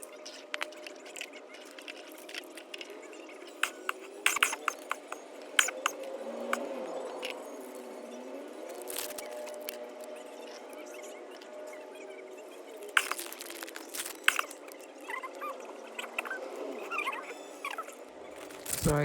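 Packaging from a Miniverse mini fruit smoothie kit is unwrapped by hand: close, crinkly rustling with scattered sharp crackles and small plastic clicks, continuous and fairly quiet.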